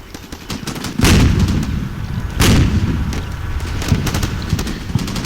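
Heavy gunfire from three or four Stryker vehicles and tanks pouring fire into a trench in Combat Mission: Shock Force, with two big booming blasts over a steady crackle of rapid shots and rumbling impacts, loud and close.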